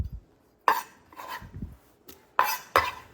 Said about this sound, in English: Nice little rough chop.